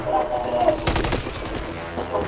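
Gunfire in the Call of Duty video game, a burst of shots about a second in, over a dense game soundtrack with some talk mixed in.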